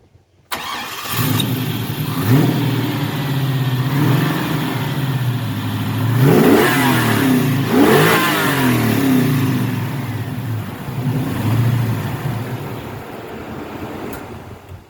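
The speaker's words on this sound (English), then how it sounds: "We're going to start her up." Car in a home garage whose engine catches and starts, then is revved hard in several rising and falling sweeps before settling back toward a steady idle, loud and close with no talk.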